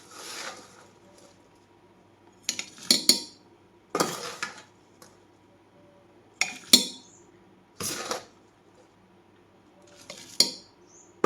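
Homemade pickle being spooned into a ceramic jar, with several separate bursts of clinking and scraping from utensil and vessel spaced a second or two apart, close by and with no talking.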